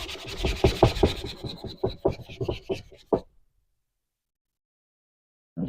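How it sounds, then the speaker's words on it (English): Sandpaper rubbed by hand over the lip of a wooden bandsaw box, a quick series of rasping back-and-forth strokes up close that stop abruptly, followed by silence. "I'm just going to sand off that"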